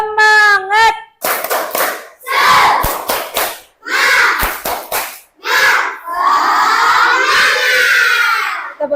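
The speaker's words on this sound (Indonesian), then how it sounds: "Tepuk semangat dulu ya." Children in a classroom religious lesson perform a rhythmic spirit clap, loud bursts of patterned hand claps alternating with chanted group shouts, ending in a sustained cheer, close and energetic.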